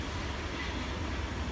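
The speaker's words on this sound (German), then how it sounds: "So Leute, wir sind gerade an der U-Bahn und in 3 Minuten kommt sie." An U-Bahn subway train in a Düsseldorf station gives a steady loud rumble of wheels and rails, continuous throughout without speech.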